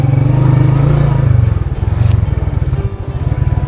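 A motorcycle engine chugs loudly close by while riding along a flat dirt mountain track toward Taki Top, with a rhythmic low throb, shifting pitch and some clattering.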